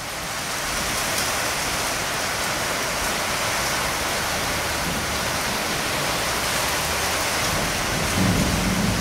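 A rainstorm with thunder and a lightning strike: a dense, steady roar of heavy rain with rumbling thunder blended in, loud and continuous throughout, with no voices.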